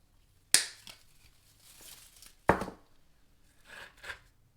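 Artificial craft carrots being cut off, two sharp, crisp snips or cracks a couple of seconds apart, each followed by softer crunching and rustling, close and isolated against quiet.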